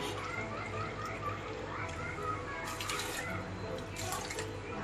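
Water splashes and trickles steadily onto rice in a container for grinding, with a constant low hum and faint voices in the background.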